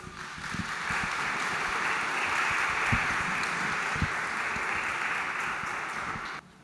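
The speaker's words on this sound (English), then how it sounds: "Let's give another round of applause" Applause from an audience at a town hall meeting forms a steady wash of many hands clapping for about six seconds. A few louder individual claps stand out before it cuts off abruptly.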